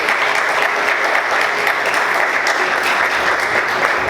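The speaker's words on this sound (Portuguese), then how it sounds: "Vamos aplaudir o Senhor bem forte" A church congregation claps loudly and steadily for the full stretch, a dense, even wash of applause from many hands filling the room, with no voices standing out above it.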